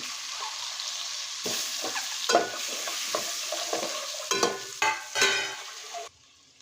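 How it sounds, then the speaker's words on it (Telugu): Boiled eggs fry in hot oil for egg biryani, a steady close sizzle with intermittent stirring scrapes and clatters, ending abruptly. "ఇప్పుడైతే ఒక్కొక్క గుడ్డునైతే ఇందులో వేసేసేసి గుడ్లు అయితే ఒక నిమిషం పాటు అలా ఈ ఆయిల్లోనైతే వేపేసేయండి"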